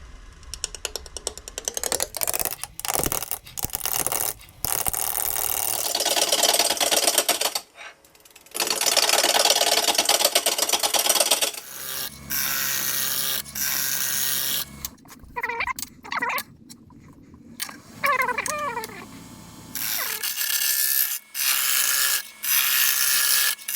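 A spindle gouge cuts a wooden workpiece spinning on a lathe, giving a loud, harsh, chattering scrape that comes in long bursts broken by brief pauses, with the motor hum under it.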